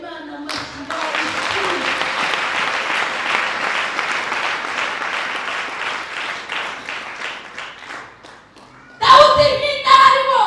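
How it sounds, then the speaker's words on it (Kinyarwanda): A crowd at a Rwandan youth church gathering claps in sustained, dense applause for several seconds, fading out before a voice resumes speaking at the end. "Ubyumva wakomera Imana amashyi yawe."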